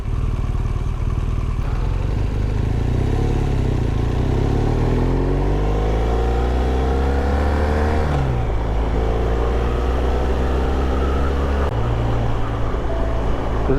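A 2016 BMW R1200R boxer engine running steadily with a deep, throbbing exhaust, revving up and down several times, close and loud throughout.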